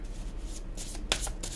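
Tarot cards being shuffled by hand, a quiet papery riffle and flutter with a couple of sharper bursts, close and alone with no talking.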